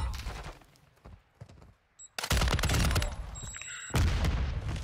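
Grenade blasts and rapid gunfire in Call of Duty DMZ: after a quiet stretch with faint talk, two heavy loud bursts of firing and explosions erupt close by, each a dense roaring wall of sound.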